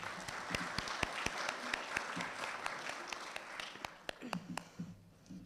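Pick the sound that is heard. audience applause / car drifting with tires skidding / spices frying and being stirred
audience applause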